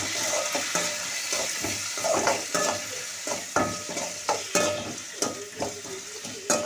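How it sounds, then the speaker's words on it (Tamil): Onions sizzle and fry in a hot pan for radish chutney while a utensil stirs and scrapes repeatedly, with steady crackling underneath. "இப்போ வந்து வெங்காயம் வந்து கொஞ்சம் வதங்கணும்."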